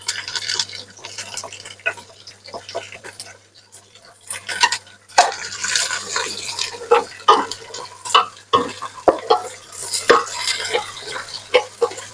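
A spoon stirs and scrapes through mutton biryani masala sautéing in a pot, with irregular clinks and knocks against the metal, quiet at first and then busier with frequent scraping strokes.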